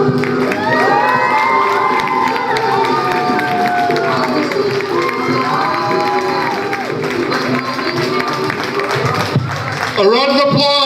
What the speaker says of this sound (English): A round of applause for a wonderful performance